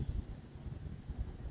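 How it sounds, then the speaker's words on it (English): Wind gusting across a neighborhood stoop on a Sunday morning, a low, steady rumble with soft buffeting pulses, alone and fairly faint. "the wind is blowing."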